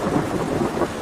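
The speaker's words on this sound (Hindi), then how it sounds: "बारिश और तूफान इतना तेज था" A cartoon thunderstorm sound effect: heavy rain hisses steadily while thunder rumbles underneath, dense and continuous throughout with no voices.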